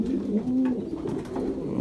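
Domestic racing pigeons coo in a loft, soft low throaty calls repeating in a continuous murmur close by, with no speech over them.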